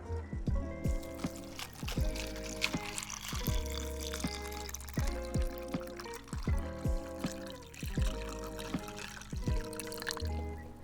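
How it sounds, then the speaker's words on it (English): Liquid from a Saturn gin tiki cocktail is dump-poured over ice, trickling with irregular clinks and splashes as cubes shift in the glass, close and steady. "we just dump pour right on top."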